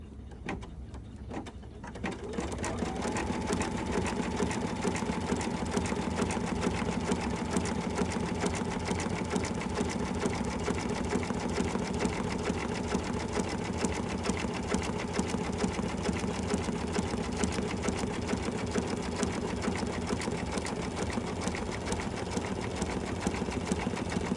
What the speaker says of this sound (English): I'm gonna let this step finish stitching